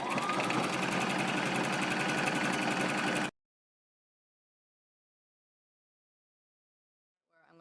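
A sewing machine stitching pillow fabric runs loud and steady with rapid, even mechanical pulses for about three seconds, then stops abruptly into silence before a voice begins briefly at the end.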